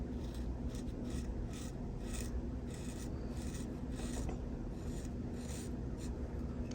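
Malone Knives Kephart blade shaving, a soft continuous scraping and rasping with faint rhythmic strokes, close and quiet, with no voice.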